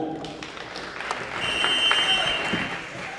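Crowd in a college volleyball gym applauding before a match, steady clapping and cheering at moderate volume, with a whistle-like tone and faint announcer talk mixed in.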